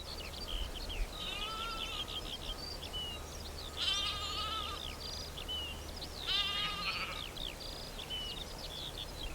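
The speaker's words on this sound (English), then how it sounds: "The feral Soay sheep have their lambs too." Feral Soay sheep and lambs, a small primitive breed, bleat in spring on Lundy island, several quavering calls at moderate distance over a steady outdoor wind and hiss.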